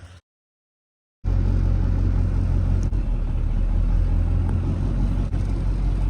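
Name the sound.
LB7 diesel truck with S369 turbo engine driving off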